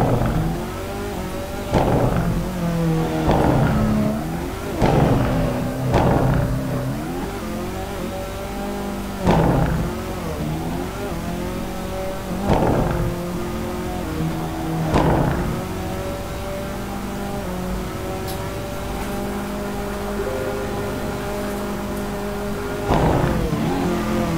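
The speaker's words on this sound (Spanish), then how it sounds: "acelera muy bien el coche" A Citroen C4 WRC rally car in Assetto Corsa revs hard, its engine climbing through gears repeatedly with sharp shifts and rising whine, loud and close throughout.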